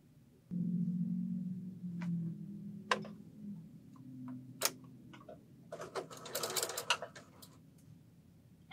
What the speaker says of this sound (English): And using a scant 1/4 inch, sew them together.